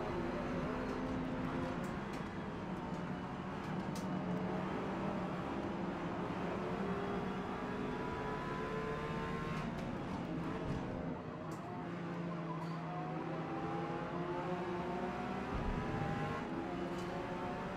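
Steady, droning engine roar from race cars, including a Viper, in a racing video game, with pitches shifting as the cars accelerate and jostle. The sound stays continuous and fairly even in level throughout.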